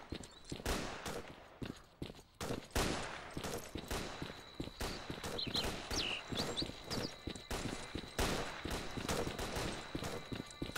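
Rapid bursts of gunfire crackle in irregular volleys in the video game S.T.A.L.K.E.R.: Clear Sky, dense and close, with sharp repeated shots and a faint high tone in the background.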